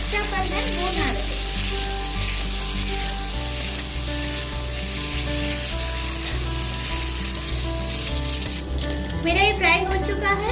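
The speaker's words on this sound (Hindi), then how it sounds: "जो प्याज और कैप्सिकम काटा था इसको मैं पहले थोड़ा सा फ्राई कर लूंगी।" Onion and capsicum fry in a pan for kadai paneer, a steady loud sizzle running the whole time with some stirring scrapes, and music or background tones underneath.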